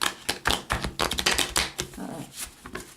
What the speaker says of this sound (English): I'm going to shuffle up the cards